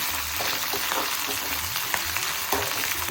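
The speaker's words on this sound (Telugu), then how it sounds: "ఆవాలు కూడా వేసాను, కరివేపాకు, బాగా వేగింది" Mustard seeds and curry leaves crackle and sizzle in hot oil for a tempering, a dense continuous fry with small popping bursts and a few scrapes of stirring, close and steady.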